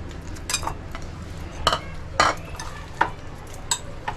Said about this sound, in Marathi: आता मी त्याच्यामध्ये पनीर टाकते.